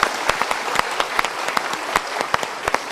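A studio audience claps steadily at a Mario Teguh motivational talk, a dense, even patter of many hands with a few sharper individual claps standing out, with no voices over it.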